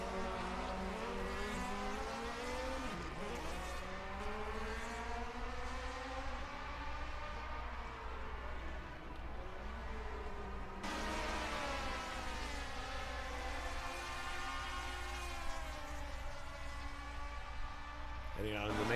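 1979 DRM Division 2 race cars lap the Mainz-Finthen airfield circuit, their engines howling, rising and falling through gear changes and braking, heard continuously under a commentator's talk.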